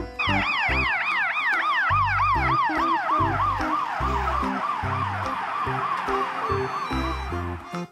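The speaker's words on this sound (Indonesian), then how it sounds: "Mobil ambulans." An electronic toy ambulance siren whoops in quick repeating sweeps over a bouncy beat-like thumping, loud and continuous throughout.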